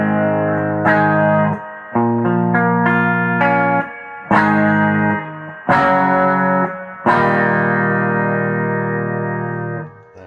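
A PRS Tremonti SE electric guitar with Seymour Duncan pickups plays through a distorted amp channel, with loud sustained power chords struck about every second or two, each ringing out and fading before the next.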